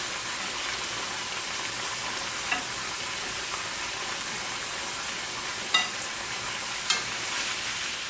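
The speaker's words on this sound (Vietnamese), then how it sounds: "Cái này giống như mình áp chảo cái da nó vậy các bạn." Pork skin sears in a hot pan for braised caramelized pork, a steady broadband sizzle with a few sharp pops and spatters near the end, close and continuous with no talking.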